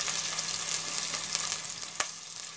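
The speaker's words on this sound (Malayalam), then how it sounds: "ശേഷം ഇതിലേക്ക് അരിഞ്ഞെടുത്ത പച്ചമുളക്, പിന്നെ ഉള്ളി എല്ലാം ഇട്ടിട്ട് നന്നായിട്ടൊന്ന് വഴറ്റിയെടുക്കാം." Chopped green chilies and onion sautéing in a pan, a soft continuous sizzle and crackle with faint stirring scrapes, quiet and steady with no talking.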